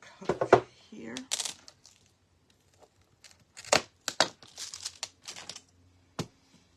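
Glass mosaic tile for a teacup piece being cut with a cutter, a few sharp close snaps and crackles scattered between pauses, with quiet talk in places.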